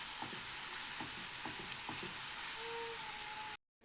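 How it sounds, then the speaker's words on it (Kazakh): Minced meat fries in a pan with a steady, even sizzle, close and moderate in level, broken by a few soft taps of stirring. "Тапамыздың біреуіне тартылған ет саламын. Осыны бірге қуырып аламын."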